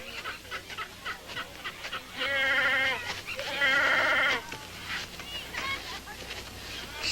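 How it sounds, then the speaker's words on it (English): A goat bleats in two long, loud wavering calls, each about a second, over background voices and indoor room noise. "that's a mighty fine Wallace goat you have here."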